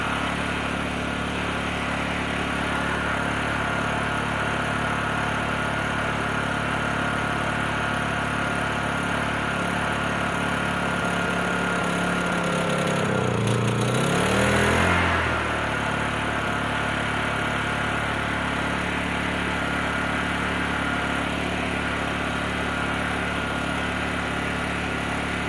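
A Predator 3500 portable generator runs on full choke on a cool 57-degree day, its engine droning loud, close and unbroken, with a brief rougher surge in the middle.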